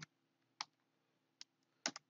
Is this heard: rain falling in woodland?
no